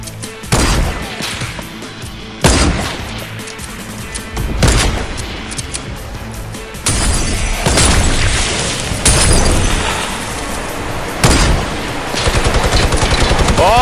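A minigun turret in Fortnite fires in rapid, loud bursts, several long volleys separated by brief gaps, with booming impacts mixed in.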